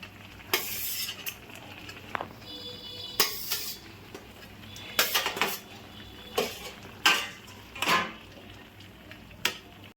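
Fried fish heads being added to a pot of fish curry with potato and eggplant, heard as a series of clattering pot-and-utensil knocks and scrapes over a soft simmering background, with no talk.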